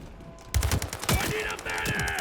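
Automatic rifle fire from a Beryl 762 in the shooter World War 3, with rapid sharp shots bursting in loudly after a quiet start and continuing in quick volleys.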